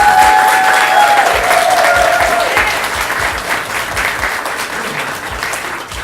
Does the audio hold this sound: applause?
yes